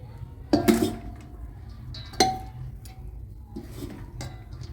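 Rice is spooned in layers into a pressure cooker for chicken biryani, bringing a few metallic clanks and scrapes of a utensil against the pot between quiet pauses.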